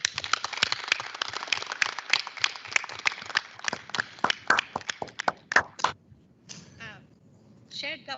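A small group at a university board meeting claps in quick uneven bursts that thin out and stop, followed by quiet and a few brief voices.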